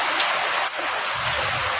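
Steady rain falling outdoors, a dense continuous hiss of drops on surfaces that stays constant and fairly loud throughout, with no voices.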